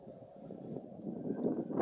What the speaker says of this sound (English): You gotta excuse the wind noise.